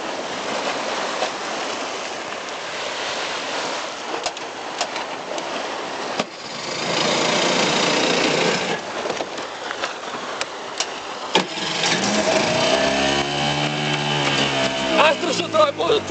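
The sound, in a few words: engine being started, likely a boat motor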